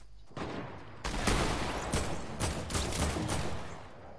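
Fortnite sniper rifle gunfire comes as a burst of sharp, loud shots cracking in quick succession over a constant noisy game background, with no speech heard.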